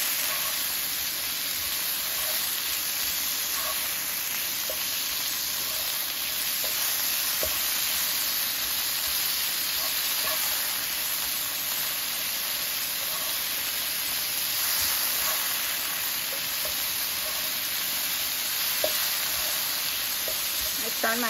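Shrimp fry in a hot pan for Creole bruschetta, giving a steady, close sizzle and hiss that runs without a break, with a few faint clicks and stirring taps on top.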